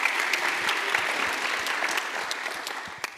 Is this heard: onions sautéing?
no